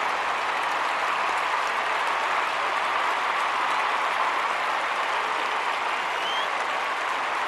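A large stadium crowd at a Bangladesh vs Australia cricket match cheers and applauds steadily as play begins, a dense, continuous roar of clapping and voices that stays at an even level throughout.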